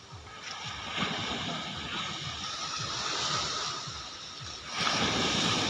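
Strong ocean waves surge and wash in a constant loud roar near a boat, with a heavier crash swelling toward the end.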